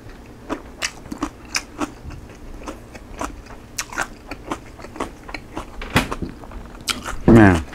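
Mouth chewing a pork belly lettuce wrap with green peppers, a close series of wet, crisp crunches in a steady rhythm of about two per second, with a brief louder crackle near the end.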